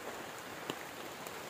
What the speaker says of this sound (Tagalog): So ngayon yan naabutan kami ng ulan.